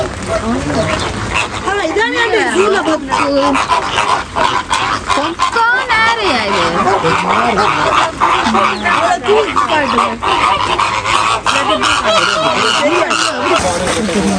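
Loud, repeated honking calls from a chicken-like bird at a zoo in Paris overlap one another, close and busy over a steady noisy background.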